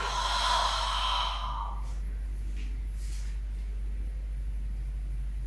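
A long, breathy exhale during a Pilates core and shoulder strengthening exercise, close and airy for about a second, then fading into near silence over a faint low hum.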